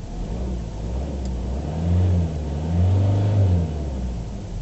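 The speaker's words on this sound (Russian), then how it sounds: "Так вот на месте газуешь, чек этот не загорается" A car just back from repair, engine revved while stationary: a steady close idle rumble swelling twice into longer revs with rising and falling pitch, no voices.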